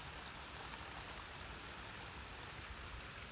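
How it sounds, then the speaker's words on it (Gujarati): Heavy rain pours over open farm fields, a steady, dense hiss of falling water that fills the whole stretch evenly, close and constant, with no voices. "વરસાદ છે ને ધમાકેદાર છે."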